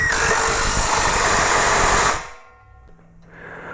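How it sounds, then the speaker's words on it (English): Impact driver tightening a clamp onto a steel piece on a welding table: a loud continuous close whirring hammer burst lasting about two seconds, then stopping abruptly into quiet. "I am going to clamp this piece of steel to my welding table using the clamp and an impact driver"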